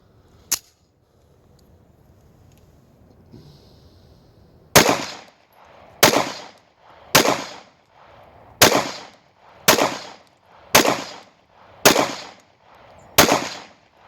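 A Colt New Agent 1911 pistol fired at an indoor shooting range, with nine sharp, loud shots in an even rhythm about one second apart after a quiet lead-in with one earlier click.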